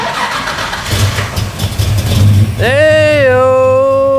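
Engine fires for the first time after a port injection fuel conversion, cranking briefly before catching into a loud, steady idle with rising tonal whine; a person exclaims over it.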